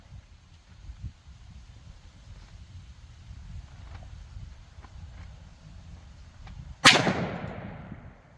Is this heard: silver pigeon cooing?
no